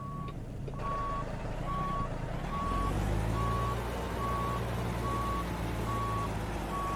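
A truck backing up in American Truck Simulator, its reversing alarm beeping steadily at an even rhythm over a low, constant diesel engine rumble that swells slightly partway through.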